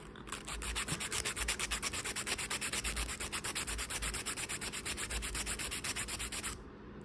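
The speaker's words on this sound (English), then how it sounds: "it's just something so satisfying about correcting your mistakes with your file" Nail file rubbing back and forth across acrylic nails, a fast regular rasping stroke repeated many times close up, stopping just before the end.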